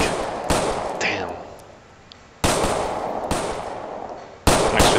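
Gunfire in the video game GTA IV with the LCPDFR police mod: sharp single shots spaced a second or two apart, each with a quick decaying tail, over a low ambient rumble.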